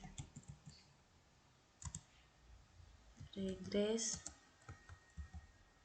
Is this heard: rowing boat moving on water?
no